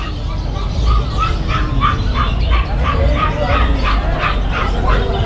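A small dog yips and barks in a quick run of sharp, repeated calls over a noisy background with people talking nearby at a pet market in Malabon.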